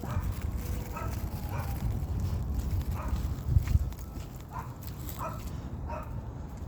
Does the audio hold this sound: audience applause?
no